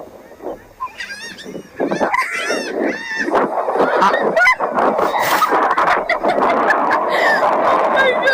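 Harsh, repeated squawking calls from several gulls at a beach, loud and close, overlapping in a noisy chorus.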